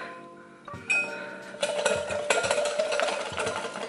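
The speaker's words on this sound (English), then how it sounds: "Let me try a whisk." Whisk beating soju dalgona coffee in a bowl, rapid clinking and scraping that starts after a quiet moment and keeps a fast steady rhythm, close by.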